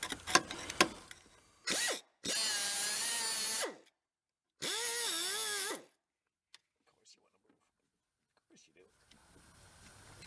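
Power saw cutting metal on an abandoned plow truck, two sustained whining bursts of a couple of seconds each with pitch wavering under load, after some clanks, then quiet handling sounds.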